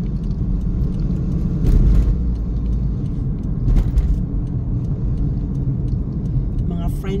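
A car drives through city traffic in Abu Dhabi, its steady engine and road rumble filling the whole stretch, with a couple of brief louder swells and a faint jingle near the end.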